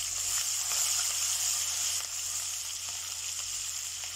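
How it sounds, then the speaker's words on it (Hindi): Garlic and green chilies frying in hot oil on a low flame, a steady close sizzle and hiss with faint stirring, no talk. "यहाँ ऑयल गर्म हो चुका है, अब हम इसमें लहसुन और हरी मिर्च ऐड करेंगे।"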